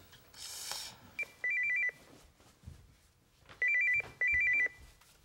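A telephone rings indoors in a Korean sitcom scene, with short bursts of electronic trilling in two groups separated by a quiet pause. The rings are clear and close, and faint rustling sits between them.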